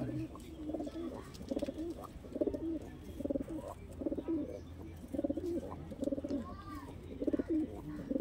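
Madrasi pigeons, a pair of high-quality birds, coo in a steady, repeating pattern close by, the soft rolling calls coming in bursts over a low constant background hum.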